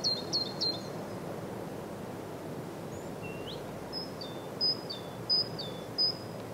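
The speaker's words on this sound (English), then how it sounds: "the sounds of birds." A recording of birdsong plays over a steady low rushing background: a quick run of three chirps, then a gap with a few soft rising notes, then a repeated series of sharp, clear tweets.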